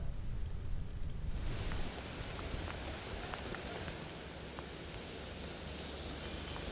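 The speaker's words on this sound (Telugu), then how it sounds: "హైదరాబాద్ నగరంలో కొద్దిసేపటి నుంచి కూడా కుండపోతు వర్షం కురుస్తుంది" Heavy monsoon downpour over Hyderabad city: a steady, dense wash of rain with scattered sharper drop hits, filling the whole scene evenly and continuously, with no voices.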